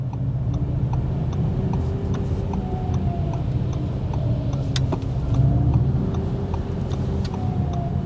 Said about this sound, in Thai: คุณได้ยินไหมเสียงมอเตอร์